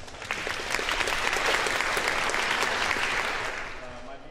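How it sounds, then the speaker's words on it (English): Audience applause at a spring concert by a composers' orchestra, swelling in quickly, holding as a thick steady patter of many hands, then tapering off near the end. "So a round of applause for Freddie, please."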